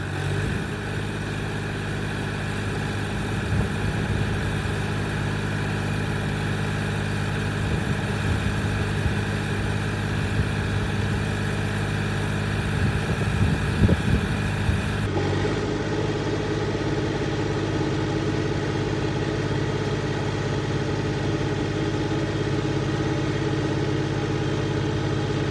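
A Kubota tractor engine runs steadily under load during a 2×4 drawbar pull test on the lower hitch, a constant loud mechanical drone with a few brief surges, the tone shifting slightly partway through.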